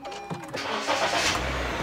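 A white 2016 Honda BR-V 1.5 SV with push-button start cranks briefly and catches, then settles into a smooth, close idle.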